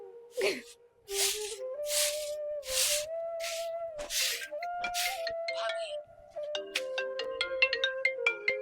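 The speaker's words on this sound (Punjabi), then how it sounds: "ਇੱਕ ਦਿਨ ਮੇਰੀ ਭਾਬੀ ਦਾ ਫੋਨ ਆਇਆ" A phone ringtone plays for an incoming call, a bright melodic electronic tune with a steady rising line and then quick repeated chiming notes, loud and close; a voice briefly sounds at the start.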